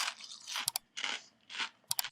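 Crunching bites into Takis Blue Heat rolled tortilla chips: three broad crackling chews with short sharp snaps between them, close and loud, no talking.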